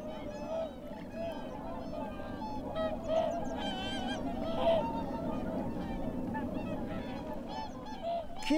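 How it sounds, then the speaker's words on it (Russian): Migratory waterfowl such as geese calling in November at a marsh, with repeated honking cries scattered throughout over a steady background, moderately distant, and some voices faintly mixed in. "В ноябре в Упу появляются перелетные птицы."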